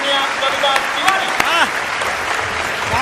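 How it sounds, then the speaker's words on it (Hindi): An audience at a Hindi poetry gathering in Nimbahera claps loudly and continuously, with sharp individual claps standing out and voices calling out over the applause. "पूरा सदन जोरदार तालियों से निमंत्रण है"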